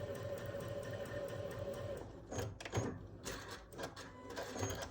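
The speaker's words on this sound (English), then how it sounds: "we've got our first row sewn together" A sewing machine stitches quilt fabric for a nine patch block, running in a steady mechanical patter for two seconds, then breaking into irregular clicks and knocks as the fabric is handled, close and moderately quiet.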